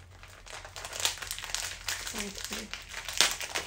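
Plastic packaging from a clothing and jewelry haul crinkles and rustles close up as someone struggles to open it, with a faint voice murmuring briefly beneath the crackling.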